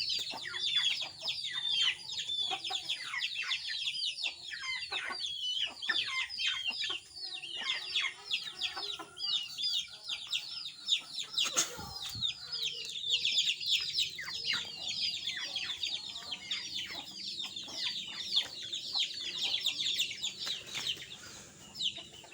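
Hens cluck busily near their nest, with many close, overlapping rapid clucks in an uneven stream throughout. One brief sharp knock or thud cuts through midway.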